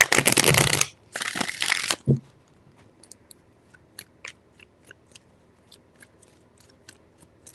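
Tarot cards are shuffled with loud, dense riffling in two bursts of roughly a second each, ending in a soft tap, then faint scattered clicks and light handling noises in a quiet room.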